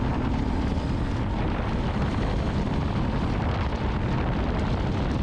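A 2006 Ducati Monster S2R motorcycle engine pulls in low gear, a steady close rumble mixed with heavy wind buffeting, with no talk over it.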